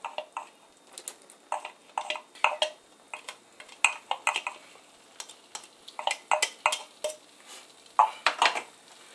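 A utensil stirs dry mustard and blended chipotles into smoked mac and cheese in a bowl, giving repeated scraping, clinking strokes in uneven bursts, close and fairly clear.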